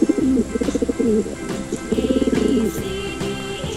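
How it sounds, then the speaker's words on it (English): A pigeon coos in repeated soft, throaty bursts, loud and close over steady background music in a children's alphabet lesson. "P for pigeon."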